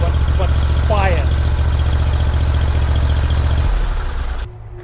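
Ferris ISX 3300 zero-turn mower with a 40HP Vanguard engine and 72-inch deck, running close with a deep steady drone under a voice, then cutting off abruptly near the end.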